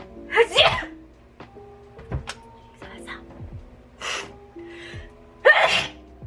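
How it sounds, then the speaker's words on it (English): Several sharp sneezes burst out one after another in a quiet room, with faint thuds and brief voice sounds between them. "makes me want to sneeze every single time"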